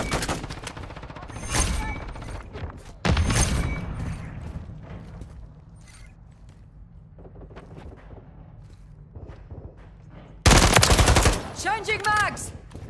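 Gunfire in Call of Duty: Modern Warfare III, with loud bursts of automatic fire and sharp single shots coming in clusters, several quieter pops and mechanical clicks between them, and a synthetic tone ringing after the last burst.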